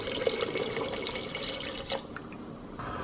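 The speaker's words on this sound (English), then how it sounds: "I'm actually gonna add a few cups of water until I get it to the kind of like consistency that I want" Water pouring and splashing into a cooking pot of vegetables for a vegan soup, a steady close trickle that thins out near the end, with no voices.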